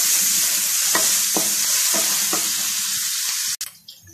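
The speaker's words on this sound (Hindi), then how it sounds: "इसको भी अच्छे तरीके से भून लें।" Steady frying sizzle of garlic ginger paste in a pan, with a few soft scraping stirs at regular intervals, then a clatter as the sizzle drops away near the end.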